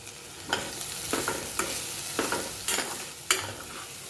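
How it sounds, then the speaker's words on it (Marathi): Toor dal and chopped dill sauté in a pan, a close steady sizzle with several distinct rhythmic stirring scrapes of a spoon, each stroke briefly louder, and no voices. "ही डाळ ही आपल्याला चांगली आता परतून घ्यायची ह्या भाजीमध्ये"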